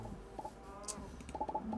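Several short, soft clucks from a video game redstone chicken sound in quick bursts, close and fairly quiet, with no talking.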